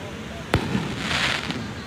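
One sharp firework bang at night over Kuta Beach, followed by a softer pop and a hissing crackle from a bursting shell, heard amid steady background noise.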